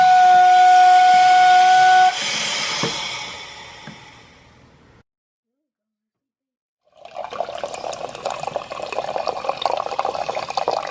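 A SPARKIN cold soda maker has its CO2 gas lever pulled down: a loud, sharp hiss with a whistling tone, a few seconds of silence, then a rougher burst of gassy fizzing as the water carbonates.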